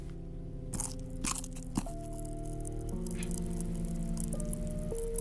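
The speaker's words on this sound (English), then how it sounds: "this chocolate not only is it crunchy, but I think it has like some sort of like pop rocks in it" Crunchy chocolate with popping candy chewed close to the mic, a steady run of wet crunches and bites joined by sharp crackles and pops, with a faint tonal hum underneath.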